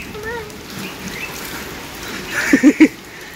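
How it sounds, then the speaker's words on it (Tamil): Steady rain falls outdoors in a village, a soft continuous patter throughout, with a few brief louder sounds near the end. "எங்க ஊர்ல விட்டு காட்டுன்னு காட்டுது மழை 4 மணிலேருந்து பெஞ்சிட்டு இருக்குது."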